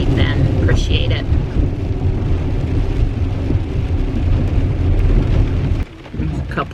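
Heavy rain drums steadily on a Tesla, heard from inside the cabin as a dense, loud, continuous patter that drops briefly near the end.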